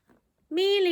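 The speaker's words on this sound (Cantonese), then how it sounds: "我哋屋企有一隻貓" A pet cat lets out one clear, close meow lasting about half a second, after a faint short noise.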